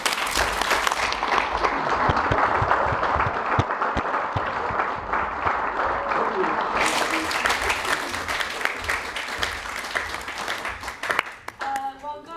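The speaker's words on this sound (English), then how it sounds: "how about one more round of applause for your performance?" Steady, dense hand clapping from an audience follows a Maori cultural show in Auckland. It keeps going for roughly twelve seconds and thins out near the end.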